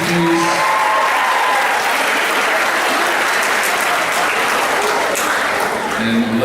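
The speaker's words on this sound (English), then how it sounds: "Students, let's give a round of applause to your parents and coaches, please." A high school sports banquet crowd applauds parents and coaches with loud, dense, continuous clapping that fills the whole stretch without a break.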